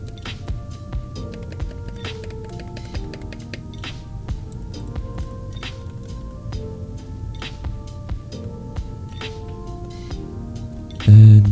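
Rapid clicking keystrokes from a Keychron K8 Pro mechanical keyboard with Gateron red switches, steady and close, with a soft hum underneath and a louder thump at the very end.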